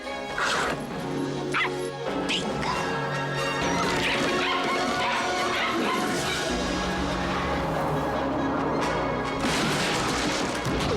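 Puppies barking and yipping in a 101 Dalmatians movie trailer, scattered barks and whimpers mixed with crashes and music, loud and busy throughout.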